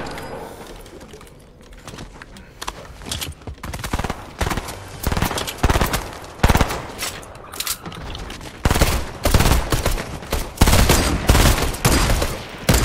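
Repeated bursts of gunfire from a Fortnite squads match, sharp close shots fired in quick groups with short gaps between them, loud and dense, with occasional talking underneath.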